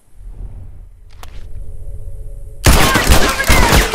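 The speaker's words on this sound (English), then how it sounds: "He has a burst rifle." Rapid burst-rifle gunfire erupts loud and close in a multiplayer match of The Last of Us Factions, following a quieter stretch of faint in-game ambience.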